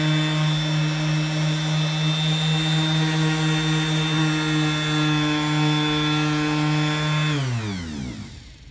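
A power buffer runs steadily on sealed black plastic trim of a personal golf cart, a loud continuous motor whine with strong harmonics that winds down in pitch near the end as the tool spins to a stop.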